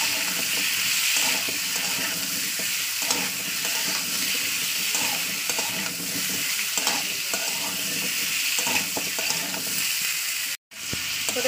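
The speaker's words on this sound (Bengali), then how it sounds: "এটাকে এবার ভালো করে তেলের উপরে একটু কষিয়ে নেবো। কষানো বলতে 3 থেকে 4 মিনিট আমি একটু তেলে ভেজে নেবো।" Radish and potato pieces frying in hot oil in a pan, a steady loud sizzle with occasional stirring scrapes throughout, broken by a brief silent gap near the end.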